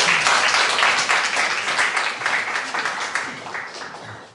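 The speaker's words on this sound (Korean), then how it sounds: "박수로 환영해 주십시오." Applause at a Korean academic seminar welcomes a Kyung Hee University professor as discussant: a dense, moderately loud burst of many hands clapping that fades gradually over about four seconds.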